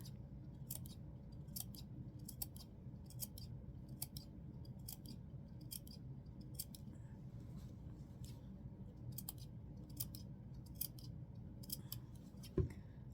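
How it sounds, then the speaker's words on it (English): Scissors snip notches into the fabric seam allowance of a doll-sized 1904 walking dress bodice, giving a steady run of soft, crisp close-up cuts over a low background hum. "I'm going to trim in, make little notches in towards the seam allowance"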